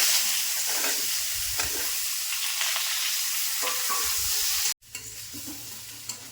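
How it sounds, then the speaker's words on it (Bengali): Boiled potatoes fry and get stirred in a wok in a village kitchen, a loud steady sizzle with scraping strokes that cuts off briefly, then resumes more softly. "আলু সেদ্ধ করে রাখা আলু ভেজে নেব"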